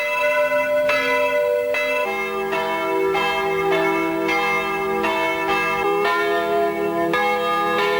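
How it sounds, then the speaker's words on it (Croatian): Church bells across Croatia, many badly damaged in the Homeland War, toll for President Franjo Tuđman's funeral: several bells ring steadily and loudly together for the whole stretch, with overlapping strokes and no voices. "Crkvena zvona diljem Hrvatske, mnoga teško stradala u Domovinskom ratu, tužnom su zvonjavom na posljednji počinak ispratila predsjednika Republike"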